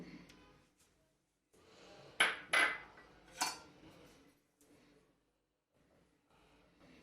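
A metal ladle clinks against a pot and serving bowl while Sabudana Semiya Payasam is served, with three sharp, close knocks in the middle and soft scraping in a quiet kitchen.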